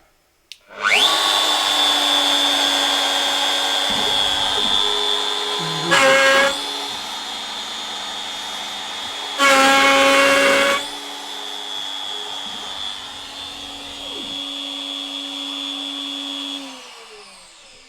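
Milling machine spindle cutting an aluminium con rod: a loud steady whine with a strong tonal hum runs nearly throughout, with two louder rough bursts of chatter as the cutter bites, then spins down near the end.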